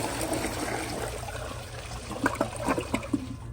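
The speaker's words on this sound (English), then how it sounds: "So here's a flush." A Glacier Bay PowerFlush toilet flushes from a bucket pour, giving a steady rush of water that breaks into gurgling, siphoning spurts near the end, close-up with no talk.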